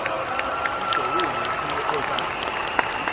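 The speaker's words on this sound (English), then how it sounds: "Can we give our Vietnamese brothers a round of applause today?" Audience applause at a RIWAY International seminar in Kuala Lumpur: a steady wash of clapping from a crowd, holding at an even level for about three seconds with faint voices mixed underneath.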